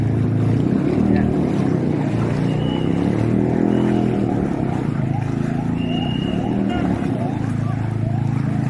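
A motorboat ferries motorcycles across typhoon flood water in Balagtas, Bulacan, its engine a loud, steady, close droning roar mixed with splashing water and wind, continuous throughout with faint chirping calls above.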